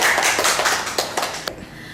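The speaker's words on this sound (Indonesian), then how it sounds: "Tepuk tangan untuk Bintang." A small group of children at a school game event in Indonesia claps for the round winner, Bintang. The crisp, fairly close clapping is dense at first, then thins to a few scattered claps and fades out.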